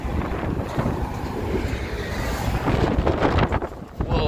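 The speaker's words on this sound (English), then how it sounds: "Whoa, it's getting windy." Strong wind roars and buffets the microphone at night on a Las Vegas street, a dense continuous rumble that swells louder toward the end, with voices faintly mixed in.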